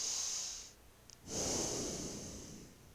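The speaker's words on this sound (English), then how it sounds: "When you breathe in and you breathe out." A person breathes in, pauses briefly, then breathes out, each breath a soft close hiss in a quiet room with no talking.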